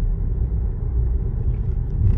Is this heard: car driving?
yes